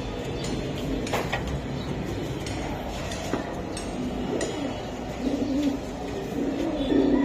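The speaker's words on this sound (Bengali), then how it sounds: "ভাই গিরিবাস কবুতর, এটা বাবরা কবুতর বলে" Giribaz pigeons, a Babra type from Narayanganj, coo softly and repeatedly amid steady background noise, with low murmuring calls growing a little clearer toward the end.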